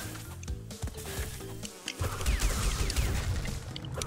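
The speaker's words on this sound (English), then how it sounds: "Sure showed those bees." Bees buzzing in the video game Crash Bandicoot 2, several insects droning over game music and sound effects, with a swelling swarm of buzz in the second half.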